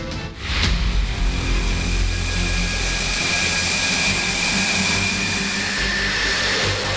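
Loud, sustained roar of a Rafale fighter jet engine, steady and close after a brief onset, running unbroken without any voices.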